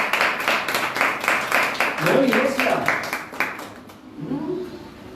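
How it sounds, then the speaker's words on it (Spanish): A church congregation claps hands in praise with a fast, steady rhythm of loud claps, while a preacher's voice carries over the middle and the end. "Denle alabanza con las palmas al Señor"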